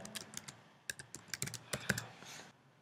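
Keys clack on a computer keyboard while a site name is entered during a local WordPress install on a Mac, an irregular run of crisp, close taps and short bursts, with no one talking.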